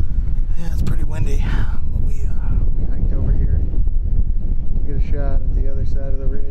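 Strong wind buffets the microphone with constant low rumbling gusts while people talk close by, on a ridge in Idaho's Frank Church–River of No Return Wilderness.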